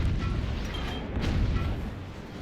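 A howitzer fires in the physics-based fort-battle game Forts, a muffled boom with a rumbling tail. It sits fairly low in the mix with no speech over it.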